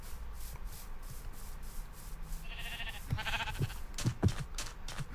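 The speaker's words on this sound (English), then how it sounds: "Plenty of sheep." Minecraft sheep bleat a few times in quick, wavering bursts, moderately loud over a steady background hiss, with no talking.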